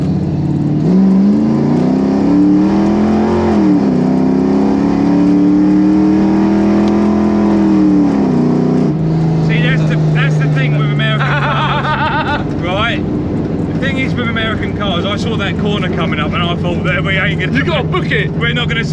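A Chevy Camaro Z28 engine revs and climbs hard in rising, sustained pitch for several seconds, then drops to a lower drone as people talk and laugh over it inside the car.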